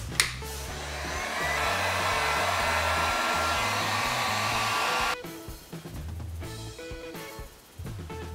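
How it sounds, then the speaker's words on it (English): Heat gun blowing steadily and loudly while softening an iPad screen for replacement, a continuous airy roar for about five seconds, then cutting out into quieter intermittent handling and motor sounds. "I'm gonna use the heat gun now."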